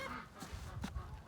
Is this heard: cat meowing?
no